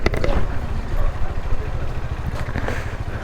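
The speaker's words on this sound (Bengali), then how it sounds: "বাইকটা এখানে রাখি" A motorcycle engine runs close by with a steady low throb at a homestay in hilly Lepchajagat, a few faint voices mixed in.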